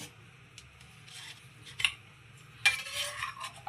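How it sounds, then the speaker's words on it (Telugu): A kadai pan is set down on a lit stove while making pulihora, giving a couple of sharp metallic clanks and a scrape over a low background hum. "ఇప్పుడు కళాయి పెట్టేసుకోవాలి"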